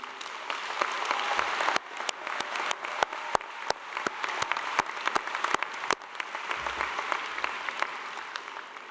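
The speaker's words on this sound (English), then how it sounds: "Can I ask you to give a final round of applause to Antoinette" A graduation ceremony audience for an arts and dance school in London gives a sustained round of applause, a dense steady wash of many hands clapping filling the room throughout, with a few sharper individual claps standing out.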